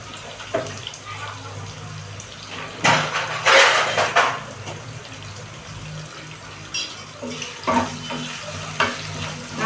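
Onions with a sprinkle of rock salt frying in a nonstick pan for chicken gravy, a steady soft sizzle with louder bursts of stirring and scraping now and then.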